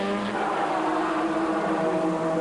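GT race cars from the 1998 FIA GT season, including a Panos and a works Porsche, roar around the track together, a loud, continuous and steady engine drone that fills the whole stretch.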